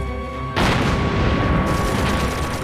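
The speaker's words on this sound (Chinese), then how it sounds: "陈总，打中了" A single artillery shell bursts on its target in a wartime battle scene, a loud, sudden boom that cuts in sharply and then rolls into a dense, sustained roar of rumble and debris that fills the rest of the moment.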